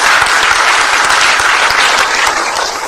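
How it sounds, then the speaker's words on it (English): An audience at a fintech conference panel gives loud, sustained applause, dense clapping that fills the room and fades slightly at the end. "Let's have a round of applause."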